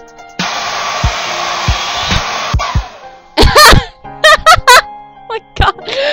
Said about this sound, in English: What is this, a blow dryer?